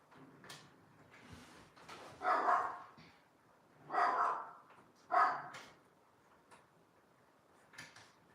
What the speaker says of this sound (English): I really can't focus when the dog is barking.